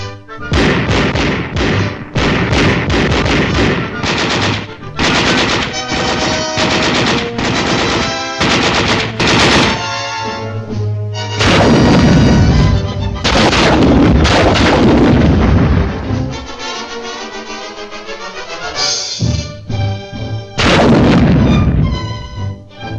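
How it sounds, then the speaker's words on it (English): Small arms and crew-served infantry weapons fire on a military training range at West Point in 1959: loud, dense machine-gun bursts and rapid shots, with heavy thumping reports and brief pauses between volleys. "we get acquainted with all of the small arms and crew-served weapons found in an infantry battle group"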